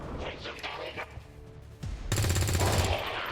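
A single gunshot fired by a soldier in the turn-based strategy game XCOM 2, landing as a loud, dense burst of gunfire in the last second and cutting over the game's sounds and a voice heard earlier.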